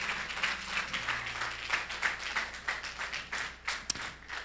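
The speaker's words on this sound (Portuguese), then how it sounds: "Dê uma grande salva de palmas ao Senhor Jesus." Women at a church service clap in a quick, rhythmic burst of applause, fairly quiet and distant, with one sharper clap near the end.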